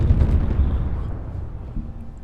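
Bombs exploding in a video game, a heavy low rumbling blast that rolls and fades over a couple of seconds, with a small second thump near the end and no talk.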